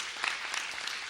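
Brief audience applause at a forum on post-conflict historical memory and audiovisual work, a soft, distant spread of clapping hands with a few sharper claps rising out of the steady patter.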